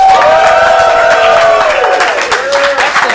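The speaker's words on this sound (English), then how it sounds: "I need you to hoot and holler and cheer and just give a lot of noise and support" An improv comedy audience rehearsing its support hoots and hollers loudly, with whoops and cheers layered over scattered clapping, fading slightly toward the end.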